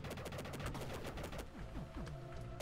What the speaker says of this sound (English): Now I got a machine gun.